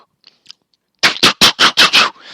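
A voice imitates rapid gunfire with six sharp, evenly spaced bursts after a few faint clicks, loud and close.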